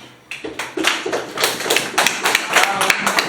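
An audience at a sickle cell disease health talk in Kalangala claps in irregular, uneven bursts that build from a few scattered hands to louder, fuller clapping close by.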